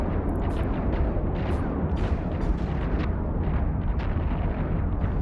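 Ships trade fire in a PvP battle in the space game EVE Online, a dense, loud, continuous barrage of booming shots and blasts with no voices heard.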